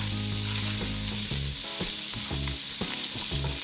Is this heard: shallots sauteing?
yes